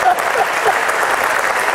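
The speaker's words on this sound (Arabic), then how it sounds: "اعطيوني تصفيق الروعه زاد." Studio audience on a TV talk show breaks into steady applause, a dense wash of clapping filling the moment, loud and close, with faint voices mixed underneath.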